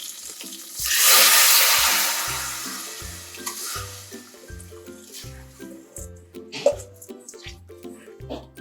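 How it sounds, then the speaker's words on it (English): Soaked rice and water tip into a hot pan of Hyderabadi bagara rice with coriander and mint, a loud rushing sizzle, then bubbling and stirring clatter over a steady rhythmic background beat. "Within few seconds, I am going to add soaked rice along with water."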